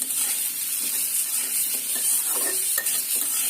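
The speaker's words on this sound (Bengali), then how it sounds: "দিয়ে তরকারিটা একটু ভালোভাবে কষিয়ে নিচ্ছি" Stinging catfish curry with green chillies and a radhuni spice tempering sizzles steadily as it is stir-fried in a pan, with soft scraping stirs close by and no talking.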